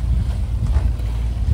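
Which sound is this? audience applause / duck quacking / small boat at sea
small boat at sea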